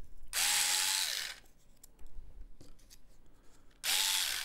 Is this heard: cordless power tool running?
yes